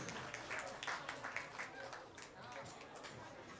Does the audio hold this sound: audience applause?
yes